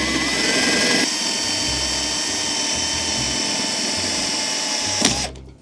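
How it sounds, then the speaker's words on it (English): A power drill boring a hole in the leg of a Blackstone griddle, a steady close whirring motor that runs for several seconds, dips briefly, then winds down at the end. "I'm just going to use this now to drill the other hole"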